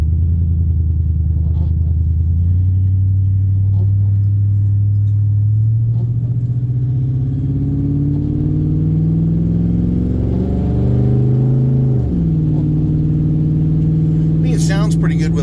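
A loud, droning car engine fitted with glasspack exhausts, deep rumbling, pitch rising slowly as it revs, then dropping back to a steady low hum.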